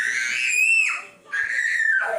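A young girl screams in fright at a dog, two long, shrill, piercing cries close to the mic, separated by a brief gasp.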